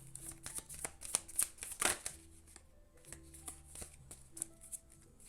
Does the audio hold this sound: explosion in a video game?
no